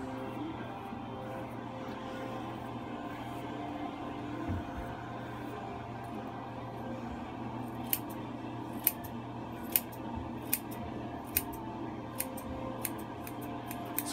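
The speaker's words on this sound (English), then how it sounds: "So I'm going to start with scissors, using my 7-inch clean comb." Sharp scissors snip a beard while it is combed with a 7-inch comb, a faint steady room hum first, then a run of crisp, evenly spaced close cuts toward the end.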